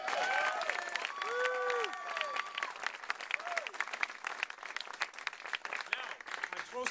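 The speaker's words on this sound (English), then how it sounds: "give Tiffany a great round of applause for the outstanding work" Applause for Tiffany at a Virginia LGBT Democratic fundraiser, steady clapping from a crowd lasting several seconds, with cheering voices and whoops rising over it early on before the clapping thins.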